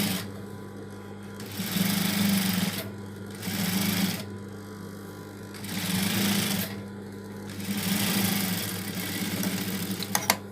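A sewing machine stitches a small baby suit in several bursts of steady, close mechanical whirring, separated by short pauses, with a low hum running throughout.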